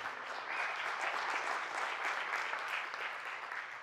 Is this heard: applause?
yes